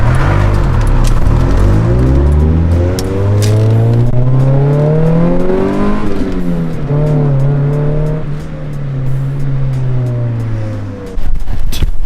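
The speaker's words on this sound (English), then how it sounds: "I know it's just an exhaust leak, but this car actually sounds really good." A car engine with an exhaust leak revs hard and loud up close, its raspy tone climbing and falling in sweeping rises, dipping midway and surging again, with a brief sharp burst near the end.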